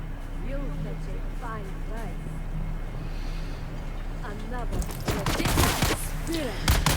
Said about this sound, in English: You put the turret down and then you activate it again and it starts shooting